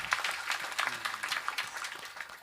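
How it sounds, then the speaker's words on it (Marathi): An audience claps for a veena player at a comic kirtan performance, a scattered, moderately loud round of applause with a few voices mixed in. "त्यांच्यासाठी टाळी वाजवली."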